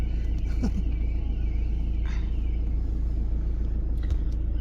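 A car crosses the border into Turkey on a 2021 homeward road trip, its engine and tyres producing a steady, close, loud low rumble throughout with no talking.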